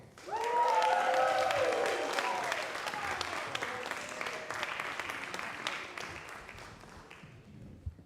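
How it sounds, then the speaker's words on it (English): An audience at a closing ceremony cheers and applauds as performers are welcomed on stage, with a dense wash of clapping and shouts that swells at the start, then holds steady before thinning out. "welcome our dear Jonathan, Julia, and Hillary on stage with a big cheer"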